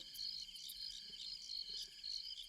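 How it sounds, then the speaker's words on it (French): Crickets chirp steadily in high, pulsing trills, soft and continuous, with no other sounds around them. "Vous entendez pas les grillons?"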